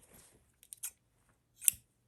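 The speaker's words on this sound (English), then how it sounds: "And then snip your yarn" Scissors snip through yarn at the end of crocheting a sock, giving one sharp, close cut after a few faint rustles and small clicks.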